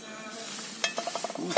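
Rice cooking in a pot at a campsite on Mount Gede via the Cibodas route, with a soft sizzle and a quick run of clicking, scraping stirs near the end, close and fairly quiet.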